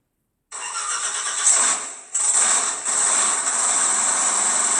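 A 1700-horsepower Hemi engine in a custom 1968 Chevrolet Corvette cranks and roars to life after a moment of silence, then settles into a loud, rumbling idle close by.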